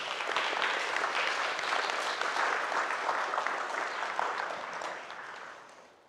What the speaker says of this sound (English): let's give you a round of applause for figuring that puzzle out